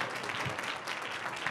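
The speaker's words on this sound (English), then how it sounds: "Could you give them a round of applause, please?" Audience applause at a startup demo day event, a short burst of steady clapping heard at moderate distance, fairly soft, with no talk over it.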